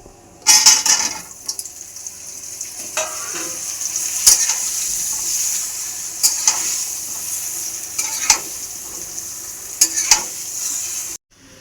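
Raw green mango pieces hit hot oil in a pan for a sweet-sour-spicy pickle, frying with a steady hiss while a spoon stirs and scrapes, with sharp clinks recurring every couple of seconds; no one speaks.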